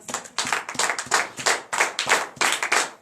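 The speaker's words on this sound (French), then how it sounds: "Donnez l'acclamation à Jésus." Rhythmic group clapping rings out at a Friday night prayer and deliverance service in Benin, sharp beats repeating in even bursts up close, with no talk over it.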